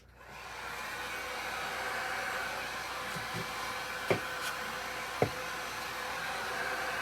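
A hair dryer runs steadily at close range, drying a rust finish on a homemade DIY watering can, its continuous airy whoosh interrupted by two brief clicks or knocks near the end.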